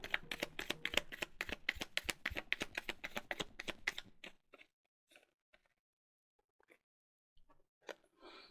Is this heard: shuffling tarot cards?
yes